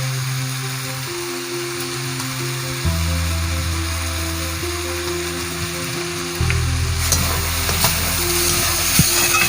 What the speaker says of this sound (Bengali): কাঁকরোলটা ভাজা ভাজা হয়ে এসেছে